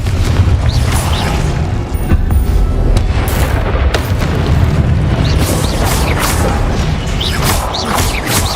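A Confringo explosion spell going off in Hogwarts Legacy, heard as a dense, continuous run of loud booming blasts and crashes over roughly nine seconds, with no speech over it.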